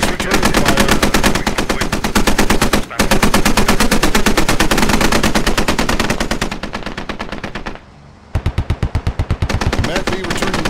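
Video game gunfire as a military vehicle returns fire on a convoy: loud, rapid automatic bursts hammering almost continuously, with a brief pause and then a string of separate sharp shots.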